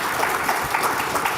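Audience applause at a university discussion event, a steady patter of clapping hands throughout a brief moment with no voices over it.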